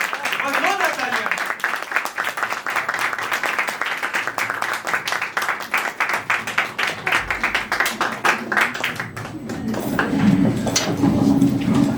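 Audience applause breaks out after a Hindi poem recital, a steady run of hand claps that swells and fades while a host's voice talks over the end.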